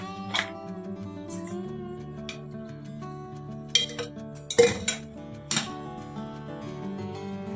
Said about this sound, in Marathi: हे बघा, खलबत्त्यामध्ये कुटण्यात येत आहे